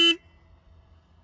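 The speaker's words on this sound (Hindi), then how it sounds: "हॉर्न अभी सुनाता हूँ," A Royal Enfield Classic 350 motorcycle horn gives one short, loud toot at the very start, then cuts off into quiet low background rumble.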